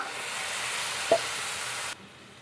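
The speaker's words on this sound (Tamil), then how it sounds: "இதை நல்லா அப்படியே கலந்து மிக்ஸ் பண்ணி விட்டுருங்க" Onion and tomato paste fries in a pan with a steady, bright sizzle, close and moderately loud, broken by one soft stirring knock before the sizzle drops sharply near the end.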